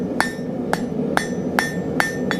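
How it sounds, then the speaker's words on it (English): A blacksmith's hammer strikes hot steel at an angle on the far edge of an anvil while forging a blunt stake point in Civil War-style smithing. Six sharp, ringing blows land in a steady, evenly spaced rhythm, close and clear with no talk. "Far edge of the anvil, hold at an angle, hammer goes at an angle."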